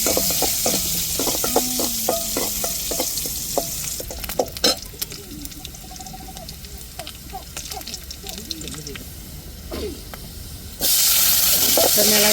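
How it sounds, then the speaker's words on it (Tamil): Fenugreek seeds fry in hot oil for a salai fish curry tempering, giving a steady sizzle with frequent scraping stirs and a loud hissing surge near the end, while a person talks. "இப்போ வெந்தயமும் எண்ணெய் மூணையும் சேர்த்துருக்குறோம்"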